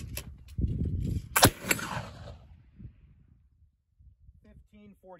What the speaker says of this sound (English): Shot number 3.